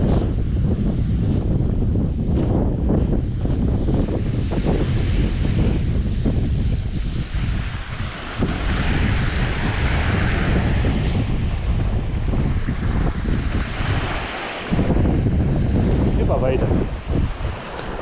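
Steady roar of Baltic Sea waves with strong wind buffeting the microphone, loud and continuous throughout, surf swelling and breaking nearby.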